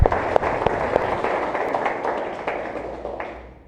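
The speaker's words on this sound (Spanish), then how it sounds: "Denle ese fuerte aplauso al Señor." A church congregation claps in applause, a burst of quick, sharp overlapping claps that starts strong and gradually thins and fades toward the end.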